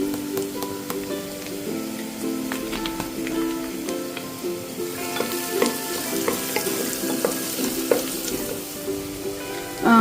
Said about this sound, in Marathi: अजून दोन तीन मिनटं आपण कांदा छान परतून घेऊया